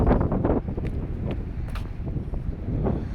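Strong wind buffets the microphone on a residential street in the North End, with a steady low roar and gusty rumbles, with no one talking.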